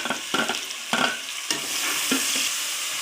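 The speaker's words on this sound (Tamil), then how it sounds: "இஞ்சி, பூண்டு, வெங்காயம் எல்லாம் நல்லா பச்சை வாசம் போகிற அளவுக்கு வணங்கிக்கணுங்க." Ginger, garlic and onion paste sizzles steadily in hot oil for mushroom biryani, broken by several sharp stirring scrapes of a spoon in the pan.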